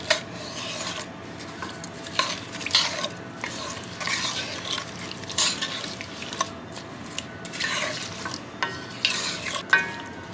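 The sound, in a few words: food in a pot coming to a boil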